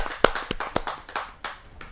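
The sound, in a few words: audience applause for a poet at a kavi sammelan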